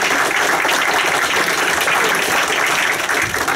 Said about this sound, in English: So just another round of applause.